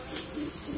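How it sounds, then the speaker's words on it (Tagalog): A soft, brief pigeon coo, low and murmuring, heard faintly for under a second. "magandang ibon"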